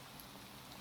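Steady rain falling in a block-building video game, a soft continuous broadband hiss of drops with no talk over it.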